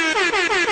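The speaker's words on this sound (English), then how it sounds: "Play that air horn." An air horn sound effect blares loud and continuous with a pulsing, wavering tone for under a second.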